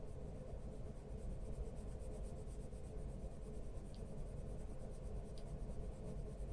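A pencil eraser rubs back and forth on paper while blending a colored-pencil drawing of a starfish and water, making a soft, steady, continuous scratchy friction close by with no talking.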